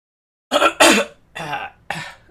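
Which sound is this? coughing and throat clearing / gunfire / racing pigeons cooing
coughing and throat clearing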